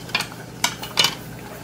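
Spoon scraping and clinking against a pot while stirring a pandan leaf and tapioca starch mixture, three short distinct strokes, close and fairly quiet, with no talk.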